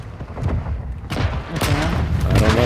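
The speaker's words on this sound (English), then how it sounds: "apparently a bomb's going to go off" Bomb explosion in the Modern Warfare 3 video game, heard as a heavy rumbling boom that builds and stays loud over a continuous low roar, with voices talking underneath.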